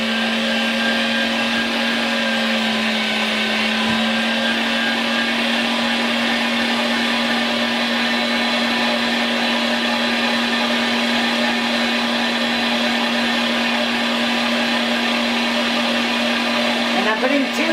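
A LEM Mighty Bite #8 electric meat grinder running at its lowest speed while grinding deer sausage, giving a steady, loud motor whine and hum that holds unchanged throughout.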